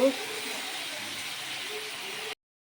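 Leafy greens stirred in a hot frying pan give off a steady, close sizzling hiss that holds evenly for a couple of seconds and then cuts off abruptly.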